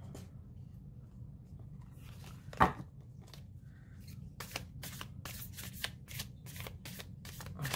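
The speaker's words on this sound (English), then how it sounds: "The cardstock is actually kind of difficult for me to shuffle." Matte cardstock tarot cards are shuffled by hand, faint soft riffles building into a quick run of crisp flicks near the end, with a single louder snap partway through.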